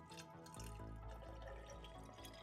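Water is poured into an open blender jar with its lid removed, filling it for cleaning; a steady, gurgling splash runs for a couple of seconds, close by and without speech.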